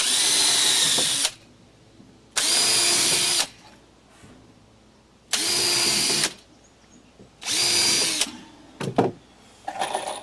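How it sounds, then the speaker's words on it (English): A power drill whirs in four loud bursts of about a second each, boring pilot holes in treated lumber, separated by short quiet pauses with faint handling clatter. "Then I can pull out the spacers and drill my pilot holes."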